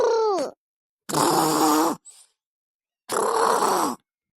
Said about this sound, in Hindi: खर्राटा तने तेज तेज रात भर नींद ना आई है